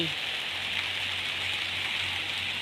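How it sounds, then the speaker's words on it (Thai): Steady rain falls without a break through a night downpour, a dense, even hiss of drops on surfaces that fills the whole stretch, loud and continuous with no pauses. "ฝนไม่หยุดเลยครับ ตกทั้งคืนแน่เลย"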